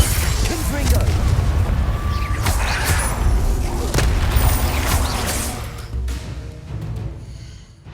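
The Confringo explosive spell from Hogwarts Legacy goes off amid in-game combat, a run of loud booming blasts and crackling impacts layered with spell effects, dense and continuous before easing toward the end.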